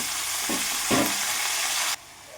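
Coriander and mint leaves sautéed in a pan, a close crackling sizzle with a couple of stirring scrapes and a sudden drop to quieter background near the end.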